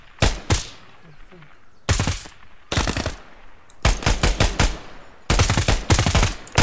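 Gunfire in the tactical shooter Ground Branch, several loud bursts of rapid automatic shots separated by brief lulls, close and sharp.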